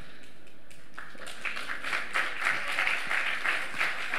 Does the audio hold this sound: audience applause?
yes